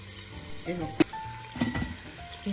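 Rabbit meat sizzles and crackles softly in a pot as its water evaporates, with a sharp clink of a utensil and some scraping as it is stirred.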